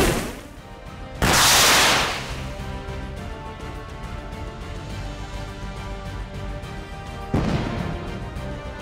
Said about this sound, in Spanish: los misiles de un HIMARS destruyeron varias piezas de armamento rusas, incluyendo un MSTAB y sus municiones